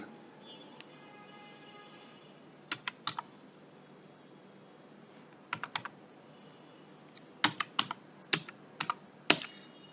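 Keys on a computer keyboard are tapped in small, scattered bursts of clicks over a faint steady background hum, quiet and close, with no voices.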